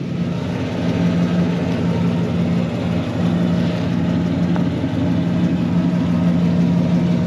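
A 1965 Chevy Malibu SS running steadily with a low, even engine and exhaust rumble, close and loud throughout, with no changes in pitch.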